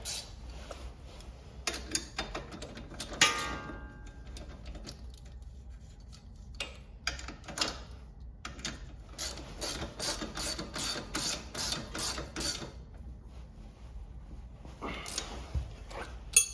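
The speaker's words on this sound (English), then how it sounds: "Crank that tight with a 14 mil." Ratchet wrench tightening a 14 mm nut on a Suzuki Vinson 500 4x4 ATV during a front wheel bearing replacement, rapid close clicking bursts in a rhythmic run with short pauses, no talk.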